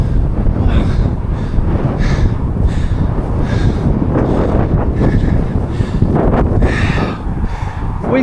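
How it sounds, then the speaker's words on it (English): Strong wind gusts buffet the microphone on a hilltop at Stonehenge, a loud, continuous roaring rumble with swelling and easing blasts throughout. "very windy"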